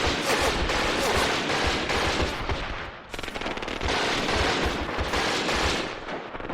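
Dense, sustained machine gun fire crackles without letup in the wartime strategy game Graviteam, loud and continuous with overlapping bursts and a brief dip midway before it surges again.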